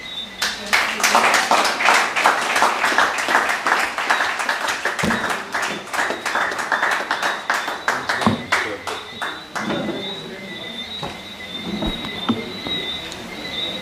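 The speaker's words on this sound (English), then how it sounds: "Round of applause again for our chairman" An audience at a political gathering gives a chairman a loud, sustained round of clapping that gradually thins out, with voices heard beneath it.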